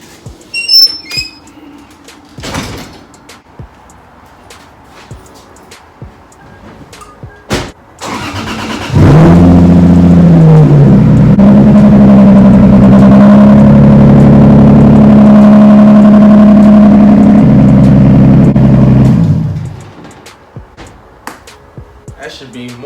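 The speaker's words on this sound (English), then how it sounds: "I'm gonna pull the car out" Car engine starts up and runs loud and close for about ten seconds as the car is pulled out, then fades, with people talking and a bird chirping before it.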